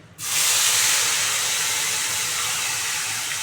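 Tomato, ginger and green chili paste hits hot oil with a sudden loud hiss that starts at once and then sizzles steadily at close range, with no talking.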